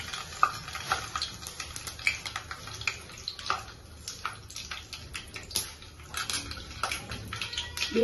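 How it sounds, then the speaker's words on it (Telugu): Mustard seeds temper in hot oil in a pan, giving a steady sizzle broken by scattered sharp crackles and pops. It is close and fairly quiet, with no voices over it. "నూనె కాగింది, పోపు పెడుతున్నాం."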